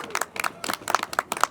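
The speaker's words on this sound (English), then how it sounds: "let us give you a round of applause for all of your outstanding work." Brief scattered clapping from a small audience at a press conference outdoors, a handful of sharp claps in quick uneven succession, fairly close and modest in volume.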